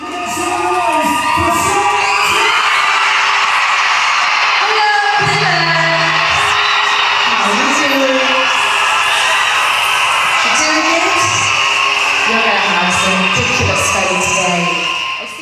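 A huge concert crowd screams and cheers continuously, loud and dense, with high-pitched shrieks and whoops surging over a roaring wall of audience noise.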